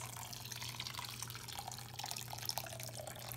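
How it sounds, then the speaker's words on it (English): Water poured into a vat of homemade paper pulp, a steady close trickling and splashing stream under a constant low hum. "Just adding some water to bring the level up a little bit and kind of even out my paper mass."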